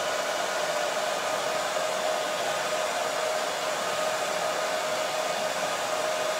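A hair dryer blows steadily on wet paint on a wood paddle, a loud, constant whirring hiss with a fixed whine that never varies from start to finish.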